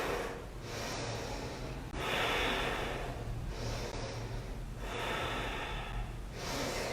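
A person holding a yoga pose for three breaths, strengthening the lower back, breathes slowly and audibly through the nose with long, close inhales and exhales in an even cycle.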